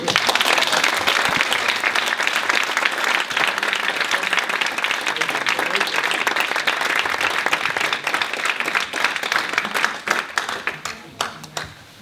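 Audience applause at a climate event after a speaker finishes, a loud continuous roar of many hands clapping that holds steady, then breaks into scattered claps toward the end.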